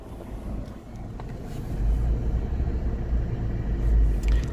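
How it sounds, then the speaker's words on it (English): A car started up in hot Dubai weather settles into a low, steady engine rumble that swells slightly toward the end, heard up close from inside or beside the vehicle with no talking. "Just started the car up because every time I come it's boiling, like burning hot."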